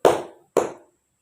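Two sharp, loud bursts of hand clapping from a class of students clapping together in unison on a count, each burst ringing briefly before a short silence.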